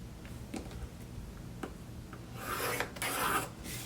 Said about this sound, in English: So I'm going to draw a 1/2 inch out here, and I'm going to roll it around and do a 1/2 inch on the other side.